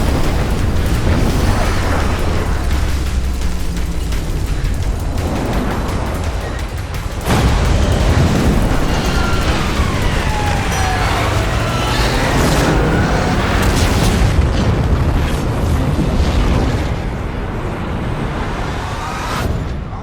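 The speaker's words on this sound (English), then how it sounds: "Mando is able to pull out a bomb that he then attaches to the Batwing's wing" Booming blast as a bomb attached to the Batwing's wing detonates, followed by a crash; a dense, continuous roar of rumbling explosion and debris noise fills the scene at high volume with no talking.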